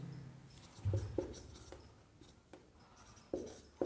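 A teacher writes on a board during a lecture: quiet scratchy strokes and a few sharp taps of the marker or chalk, irregular and close, with no talking.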